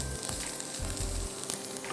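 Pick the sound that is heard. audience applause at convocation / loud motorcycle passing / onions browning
onions browning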